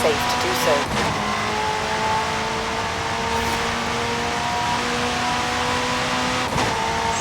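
A black McLaren accelerating in Forza Horizon 5, a steady high engine whine holding constant tones at speed over a full, loud game mix with brief louder bursts near the start and end.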